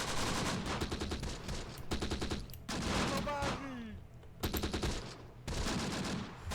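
Rapid machine gun fire in the World War II strategy game Close Combat, heard as repeated loud bursts of rattling shots in quick succession, with brief gaps and whistling tones between volleys.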